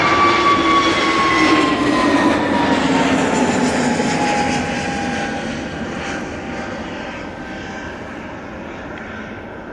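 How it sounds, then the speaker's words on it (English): SAS Airbus A320neo jet departing Manchester Airport, a loud engine roar with falling whining tones that gradually fades as the aircraft moves away. "SAS A320 Neo now departing."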